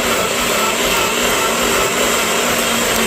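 A blender whirs continuously as it purées fish food into a smooth paste, a loud, steady motor roar with a broad, noisy hiss and no breaks.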